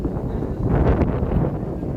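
Strong gusts buffet an umbrella outdoors during the Araw ng Davao parade, a steady low rumbling roar with broad flapping texture that swells mid-clip and stays loud throughout, with no voices.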